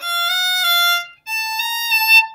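A single violin plays a brief passage of a few bowed notes, with a short pause before the final note, up close and unaccompanied, from a practice piece.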